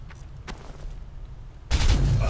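Pistol shots in Crysis 2, a few faint sharp pops followed by a sudden loud, dense burst of gunfire that fills the rest of the moment, with no voices.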